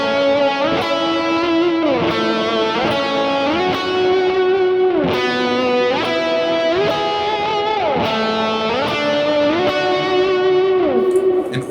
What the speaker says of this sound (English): I can play single notes with kind of a fat sound like this.